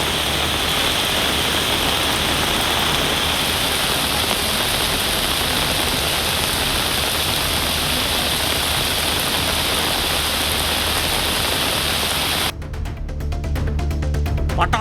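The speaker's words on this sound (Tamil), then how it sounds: "காரைக்குடி மற்றும் அதன் சுற்றுவட்டார பகுதிகளில் கனமழை வெளுத்து வாங்கியதால் குளிர்ச்சியான சூழல் நிலவியது" Heavy rain pours down on the town of Karaikudi and its surroundings, a loud steady hiss of falling water that holds constant for most of the clip before briefly cutting off near the end.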